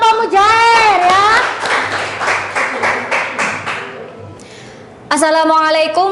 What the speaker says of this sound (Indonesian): Beri aplaus untuk kelompok Mujair ya.